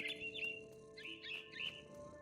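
A small bird chirps in quick bursts of high, bright tweets, three clusters spaced across a quiet outdoor scene high in a big tree, in the video game What Remains of Edith Finch.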